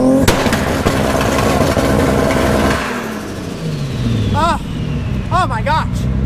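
A Nissan 240SX with a swapped Toyota 2JZ engine revs loudly up close, then drops to a lower rumble as it drives off, with a few sharp chirping squeals toward the end.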